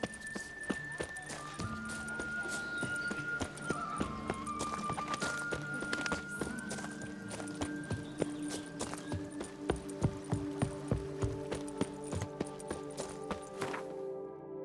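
Hooves of Roach, the horse in The Witcher 3, clatter in a quick, steady rhythm over a bed of sustained musical tones, close and even throughout.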